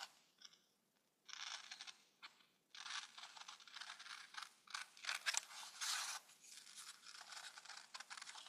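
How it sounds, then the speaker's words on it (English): Scissors cutting paper up close, in several bursts of crisp snipping and rustling separated by short pauses, alone without any talking. "it's very easy cutting. All you need to do is cut it around,"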